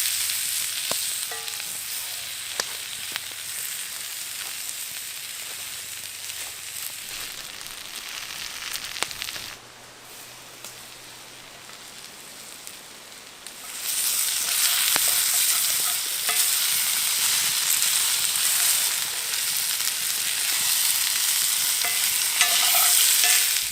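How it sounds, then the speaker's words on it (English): Sausages frying in a pan over a campfire, a close steady sizzle with occasional stirring scrapes; the hiss drops away briefly midway and then returns louder and fuller, with no talk. "So now the sausages are in the pan."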